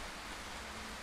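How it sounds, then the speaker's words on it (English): Steady rain in the survival horror game Darkwood, a soft continuous hiss of falling drops that stays even and fairly quiet throughout, with no voices over it. "Ah, okay, it's raining."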